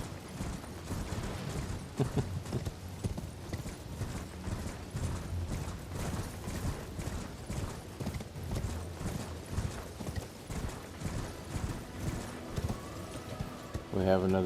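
Horse hooves clip-clop rhythmically through most of the stretch while riding in Elden Ring, steady and close, with a whinny and mechanical ratcheting near the end and a voice talking throughout.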